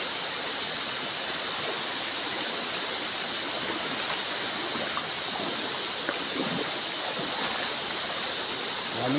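Water of the HeadGate River rushes in a continuous, even wash of noise, moderately loud and steady throughout with no voices.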